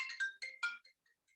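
A mobile phone ringtone goes off during an indoor tai chi class, playing a quick run of bright melodic electronic notes for about a second before trailing off into a few faint, sparse tones, with no talking.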